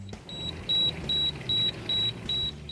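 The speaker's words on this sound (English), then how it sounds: "Our alarm's going off means our pastrami's hit our internal temperature." A meat thermometer alarm on a smoker cooking corned beef brisket into pastrami beeps in a steady rhythm of about six short, evenly spaced high-pitched pulses over a low background hum.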